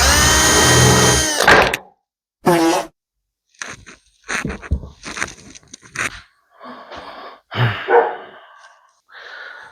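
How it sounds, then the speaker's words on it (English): Power drill boring pilot holes in a 1x4 wooden board for a clamp storage rack, in several short loud bursts of whirring with silent gaps between them, heard close up. "Next, we drill pilot holes for the 3 screws that are going to be going into this."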